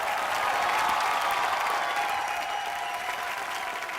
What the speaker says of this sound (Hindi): सर तालियां सर, लाइए।